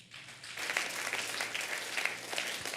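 A congregation claps at a church service, a steady, moderately distant round of applause with many hands blending into a continuous patter over a faint low hum.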